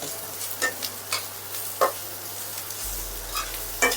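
A spoon stirring sweet corn upma as it sautés in a pan, with intermittent scraping strokes about once a second over a soft, steady sizzle and a low electrical hum.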